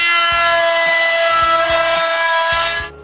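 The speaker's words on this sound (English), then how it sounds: "I sand all the faces of those 4 boards, like the quarter inch panel" Wooden boards for a cremation urn being sanded with a power tool, a loud steady whining drone with rhythmic scraping strokes, close up, cutting off abruptly at the end.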